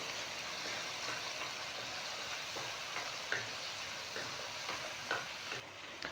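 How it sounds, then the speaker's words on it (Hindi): Spices with kasuri methi and Kashmiri red chili frying for a rohu fish curry, a steady sizzle with occasional stirring scrapes and faint clinks, close and continuous with no talk. "और इसे मज़ीद मैं 3 से 4 मिनट इसकी भुनाई करूँगा।"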